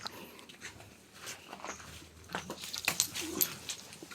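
A dog whimpers softly indoors, faint high whines and small restless sounds coming in short bursts that grow a little louder toward the end.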